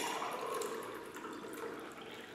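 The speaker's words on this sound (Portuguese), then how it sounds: "agora nós vamos despejar a água nessa xícara" Water poured into a cup (xícara) for a refraction demonstration with a mug and spoons, a steady broadband liquid rush running throughout, fairly close, with no talk over it.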